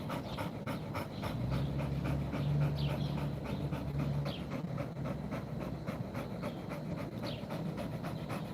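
A dog pants steadily outdoors in fast, rhythmic breaths that run throughout, close by and moderately loud over a low background hum, with faint bird chirps now and then.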